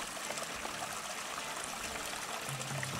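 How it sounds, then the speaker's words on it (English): Steady trickling and splashing of a small waterfall in Arizona, continuous and fairly close, with no voices. "Nice little waterfall right up above it here"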